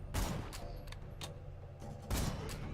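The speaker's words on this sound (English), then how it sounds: "Can I try my new sniper rifle?" A sniper rifle fires in Borderlands 2: a few sharp, booming reports spaced across a couple of seconds, close and punchy, over a low rumbling game backdrop.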